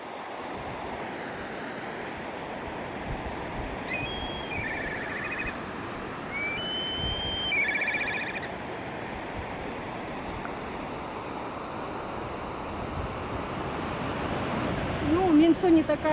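Powerful glacier-fed mountain river Mintsu in the Altai, flowing from the region's longest glacier, gives a continuous loud roar of rushing water with wind buffeting the microphone and faint birdsong above.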